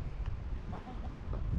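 Backyard chickens cluck softly in short bursts, fairly close, over a steady outdoor background noise.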